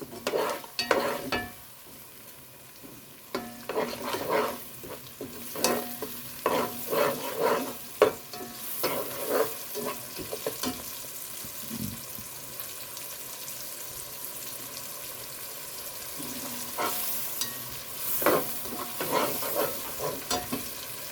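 Ginger garlic paste, three teaspoons, frying and being stirred in a pan for restaurant-style chicken Manchurian: steady close sizzle with repeated scraping stir strokes throughout.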